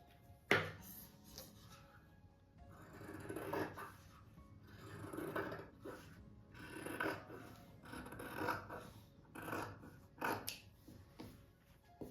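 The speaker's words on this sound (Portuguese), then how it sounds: "Desse aqui eu vou cortar no meio." Fabric squares for a colourful patchwork rug being cut in half: a series of close rasping, rubbing cuts in a quiet room, with no talking.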